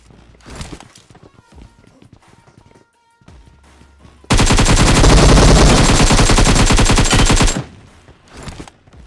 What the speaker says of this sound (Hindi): जब मैं एक को फायर दे रहा था दूसरा खुद ब खुद फायर मार जाता है